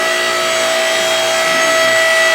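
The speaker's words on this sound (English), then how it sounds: "If you don't give your power tools a test run before you use it," A power tool is switched on for a short test run, giving a loud, steady, high-pitched motor whine that holds constant for about two seconds and then cuts off abruptly.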